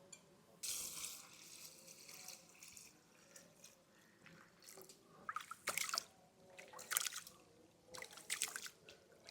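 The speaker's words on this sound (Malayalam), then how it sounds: "നമുക്കിതൊന്ന് നന്നായിട്ടൊന്ന് കഴുകിയിട്ട് ഒരു പത്ത് പതിനഞ്ച് മിനിറ്റ് കുതിരാൻ വെക്കാം" Jeerakasala rice is washed in water for a wedding-style beef dum biryani, with bursts of splashing and swishing water between quieter trickling pauses and no talk.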